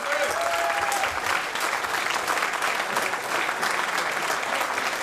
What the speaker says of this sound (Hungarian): Kérek egy nagy tapsot ő neki!